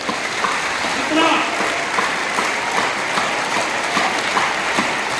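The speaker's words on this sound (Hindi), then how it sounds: "ताली पोजीशन बना लिए, क्लैपिंग पोजीशन, क्लैप जोर से" School students clap hard together during a yoga exercise, a stream of sharp, fairly regular claps with voices heard alongside.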